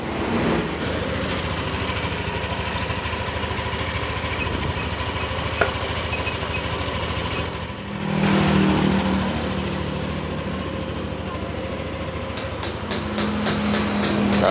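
A Yamaha scooter engine idles with a fast, steady, buzzing chatter, running close and unbroken for most of the stretch, dipping briefly near the middle, with a few sharp ticks toward the end.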